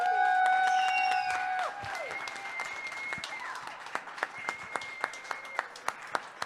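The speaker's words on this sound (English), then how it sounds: "giving a really warm and loud, ruckus round of applause for Food Tank" An audience at a food conference gives a warm round of applause over a sustained tonal sound, the clapping thinning into a few distinct, rhythmic claps toward the end.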